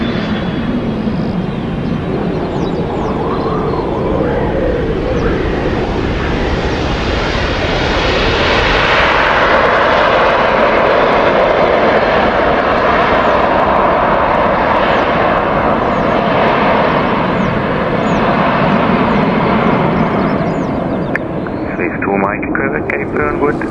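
An airliner landing at Zurich Airport on a very windy morning, its engine roar swelling loud and steady for over twenty seconds, joined by wind noise and rushing air.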